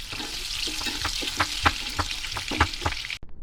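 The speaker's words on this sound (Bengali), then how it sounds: "ওই তেলেই কিন্তু আলু আর ফুলকপিটাও ভাজতে দিয়ে দেবো" Potatoes and cauliflower fry in oil left over from frying fish, a close, continuous sizzle broken by repeated scraping clicks of stirring.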